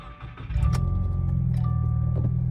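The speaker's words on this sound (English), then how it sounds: "Let's go and start it up." A 2021 Subaru WRX with a manual transmission starts with a key: a brief starter crank catches into a steady, loud idle that settles in close by.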